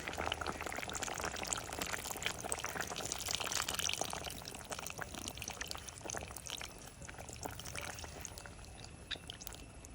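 Tamarind water is poured into a pot of sambar for a Kerala sadya, giving a steady, close rush of liquid that stays loud for several seconds and then eases off slightly.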